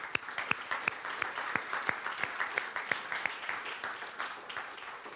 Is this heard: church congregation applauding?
yes